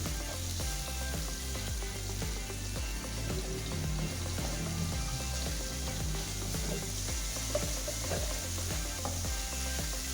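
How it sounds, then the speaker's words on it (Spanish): Garlic fries in oil for a lentil soup, a soft continuous crackle and sizzle with fine ticking bursts running steadily throughout, fairly quiet. "Sofreímos primero el ajito"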